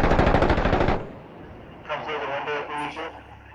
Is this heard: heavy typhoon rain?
no